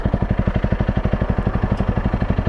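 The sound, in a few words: motorcycle riding past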